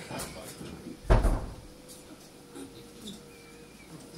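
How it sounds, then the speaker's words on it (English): A door closes with a single sharp thud in a room before a live music performance at The Abattoir, with faint background murmur and room noise around it. "Can you close the door?"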